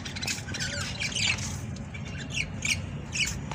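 Budgie parakeets squawk and chirp inside a cage, with sharp repeated calls rising over a constant rumbling background noise and no voices.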